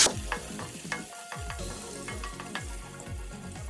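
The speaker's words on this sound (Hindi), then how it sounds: "एक मिनट तक लहसुन को फ्राई करेंगे।" Garlic frying in oil in a pan, a steady close sizzle with rhythmic stirring and scraping strokes throughout, no voices.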